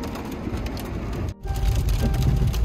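Heavy rain with hail pelting a car pulled over at the roadside in the Tirthan Valley near Jibhi, a dense, continuous drumming and rattling with a momentary dropout midway.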